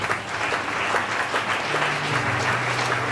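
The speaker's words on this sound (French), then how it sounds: "acclamons la parole de Dieu" A church congregation applauds with sustained, dense clapping that fills the space evenly for a few seconds, loud and close, with no voices rising above it.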